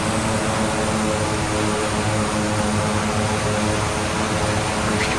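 Propeller engine of a Rockwell OV-10A Bronco at full RPM in Microsoft Flight Simulator 2020, a steady, loud, continuous droning roar with a constant hum and no pauses.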